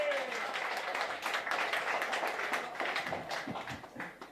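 A concert audience applauds the guest guitarist with a steady wash of clapping, moderately distant, with a few cheers and a voice over the crowd.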